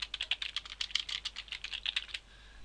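Fast, light keystrokes on a computer keyboard come in a quick, close burst for about two seconds during work on a Unity 3D game script, then stop, with no voices over it.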